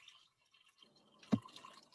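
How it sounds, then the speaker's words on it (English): Water poured into an Instant Pot with dal in it, a faint trickling fill that rises briefly into a soft splash, heard alone in a quiet kitchen. "And I'm adding more water to it."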